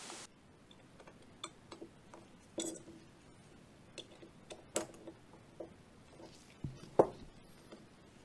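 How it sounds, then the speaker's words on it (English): A punch driving out the sear bushing of a Desert Eagle pistol, a quiet series of sharp metallic taps and clicks at uneven intervals, close and otherwise silent. "Using a punch, drift out the sear bushing."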